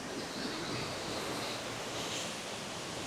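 A waterfall in Japan rushing steadily, a dense, even roar of falling water with no breaks, heard alone without voices.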